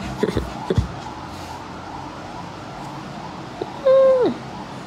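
A person imitates a cat's meow with one drawn-out, falling, nasal call near the end, alone and fairly loud, after a few soft knocks and a quiet room hum.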